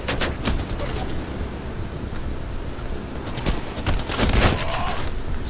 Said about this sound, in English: That's right, eat shotgun.